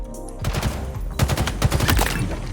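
Rapid bursts of gunfire from Halo Infinite multiplayer, shot after shot in dense overlapping volleys, loud and close through most of the short stretch.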